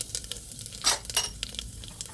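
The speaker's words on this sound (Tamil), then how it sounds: "இப்போ தாளிச்சிட்றேன். தாளிக்கும் போது கடுகு, சீரகம், உளுந்த பருப்பு," Mustard seeds, cumin, urad dal, chana dal and fenugreek sizzle in hot oil for a South Indian potato and pea kurma, giving a soft crackling fry with a few sharper pops and stirring sounds.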